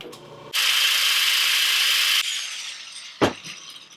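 A handheld grinder grinds down part of a Ford Bronco leaf spring, giving one loud, steady, near burst of harsh wideband noise lasting under two seconds, then fading, with a brief sharp scrape afterward.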